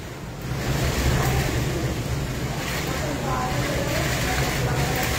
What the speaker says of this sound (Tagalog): Grabe, lakas ng hangin talaga